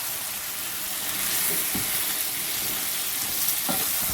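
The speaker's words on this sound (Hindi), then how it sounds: "अच्छी तरह से इसे मिला लें ताकि मसाला नीचे तक जो है वो भून जाए।" Masala-stuffed aubergines fry in a pan with a steady, soft sizzle while a spoon stirs them, producing a few faint scraping knocks against the pan.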